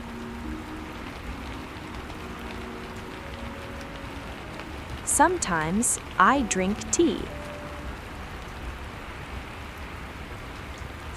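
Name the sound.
rain falling on a window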